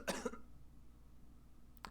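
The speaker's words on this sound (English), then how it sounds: "Coughs in Japanese." A single short cough from a character in The Great Ace Attorney, a couple of quick rasping bursts up front followed by quiet, then a faint brief throat sound at the end.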